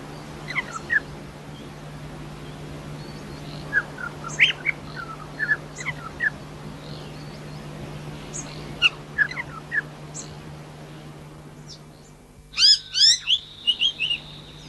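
Several short, bright bird calls from a regent honeyeater, a black-and-yellow scalloped Australian honeyeater, scattered over a steady low hum, with a louder burst of rapid chirps near the end.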